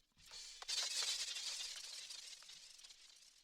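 A grain delay effect on a minimal techno track, a thin, crackling, insect-like buzzing swarm in the highs that swells in quickly, holds, then slowly fades out, with no voices.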